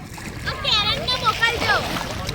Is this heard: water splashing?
yes